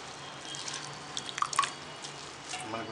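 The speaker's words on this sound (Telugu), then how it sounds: "నీళ్ళు చూసారా పోతుందండి." Water draining from freshly washed banana flower in a kitchen, a soft steady trickle with a few close drips.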